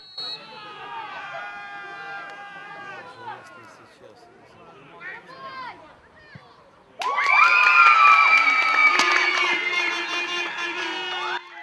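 Football fans at a Zhytomyr regional cup match shout and cheer, a scattered crowd noise swelling into a loud, sustained roar partway through, with whistles and voices mixed in.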